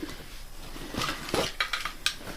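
A small metal EDC stove handled close up, giving a few light metallic clinks and rattles, brief and fairly quiet, with no one speaking.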